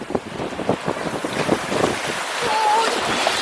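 Waves wash and splash near the shore amid blustery wind buffeting the microphone, with a few faint voices in the background.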